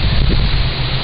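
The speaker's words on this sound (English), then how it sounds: "Very windy and cold day here, should have brought a hoodie." Strong wind on a cold day outdoors, buffeting the microphone with a loud, continuous rushing roar that fills the whole moment up close.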